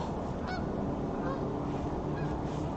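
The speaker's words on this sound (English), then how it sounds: "birds in a formation." A flock of geese flying past in formation outdoors, their honking calls overhead against steady wind noise, a few brief honks standing out over the continuous background.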